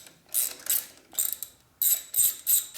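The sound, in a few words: wrench ratcheting while working on Harley touring motorcycle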